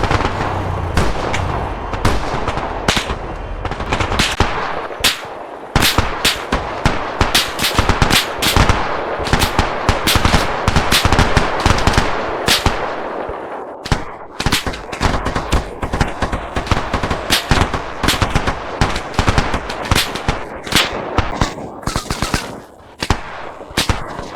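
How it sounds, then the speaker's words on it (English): Sustained bursts of automatic gunfire crackle from tree lines around a base in Arma Reforger, dense rapid shots and heavier booms overlapping loudly for the whole stretch, with no talking. "the sound of gunfire began to erupt from the many tree lines around the base"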